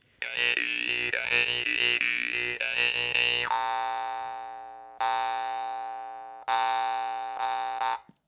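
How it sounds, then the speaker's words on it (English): Russian vargan jaw harp twangs loudly and close, with rapid rhythmic plucks giving way to long ringing drones that are restruck twice and left to fade. "That's a nice Russian Vargan."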